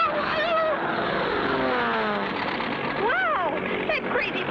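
A cartoon propeller plane roars past close overhead with a loud droning engine and whining pitch swoops, while voices talk over it.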